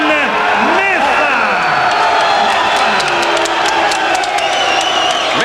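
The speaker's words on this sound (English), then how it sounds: "Mixed reaction from the crowd." A boxing arena crowd reacts to a judges' decision with sustained loud, mixed noise of cheers, whoops and shouting, a dense continuous roar with voices rising and falling throughout.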